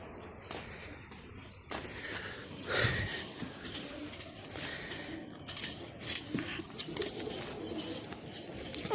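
Domestic pigeons on a rooftop flying session, a mix of wing flaps, brief coos and clattering, moderately loud and uneven with sharp bursts toward the end.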